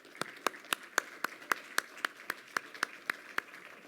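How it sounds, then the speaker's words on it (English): Light applause at a Metro Vancouver economic forum on transportation and land use, a thin, steady run of separate claps at a brisk even rhythm, fairly quiet and with no speech. "So a round of applause to our supporting sponsors"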